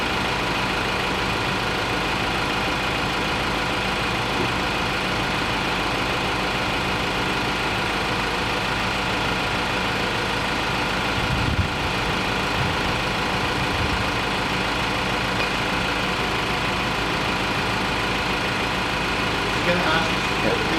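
Car engine held at steady idle during an exhaust gas analyser emissions test in a workshop, a constant even rumble throughout with a faint brief voice partway.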